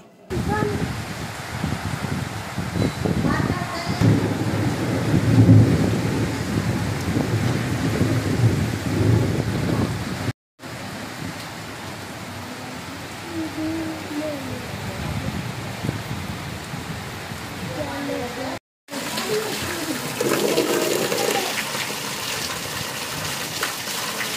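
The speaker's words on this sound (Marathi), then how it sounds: "जोरदार वादळ आणि पाऊस सध्या सुरू आहे" Heavy rain pours steadily with rumbling thunder in the background in Solapur city, interrupted by two brief cuts; voices murmur faintly at times beneath the storm.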